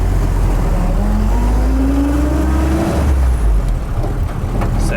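A 1942 Willys Jeep pulls away, its engine revving loudly and steadily up through a gear change as it drives off, with low rumble throughout and no talking.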